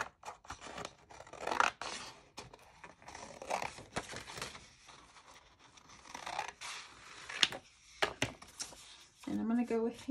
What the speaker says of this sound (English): I'll go ahead and cut this out.